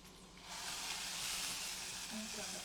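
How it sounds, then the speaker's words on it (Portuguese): A sirloin steak sizzles in its own rendered fat in a pan, giving a steady, dense hiss that swells after a quiet start and holds at an even level. "eu vou fazer o cozimento desse contrafilé na própria gordura dele"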